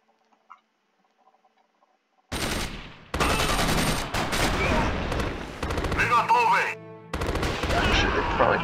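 DT machine gun fire from an Axis & Allies video game user mod: after near silence, loud dense bursts of rapid automatic shots start suddenly, with short gaps between volleys and layered battle noise.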